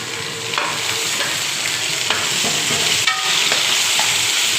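Steady sizzling of onion, garlic and ginger frying in a pan, with occasional scrapes and clinks of a spoon stirring, close and continuous.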